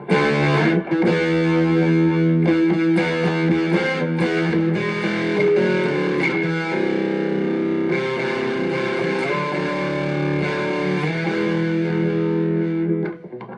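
Heavily distorted electric guitar through stacked overdrive pedals, including a Joyo Tai Chi, into a Harley Benton Tube15 amp plays sustained chords and notes, thick and saturated, loud and close without any speech.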